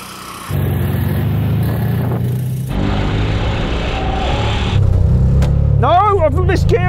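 A three-wheeler's engine revs in a drag race, a steady low droning rumble that swells louder toward the end. Voices talk over it throughout.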